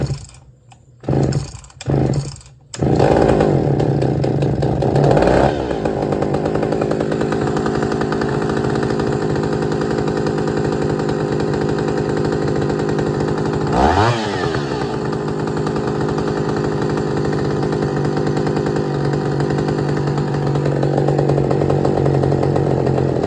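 A John Deere 80EV chainsaw, just back from a clutch repair, fires after a few short pulls and then runs loud and steady at a high idle close by, with one brief rev partway through.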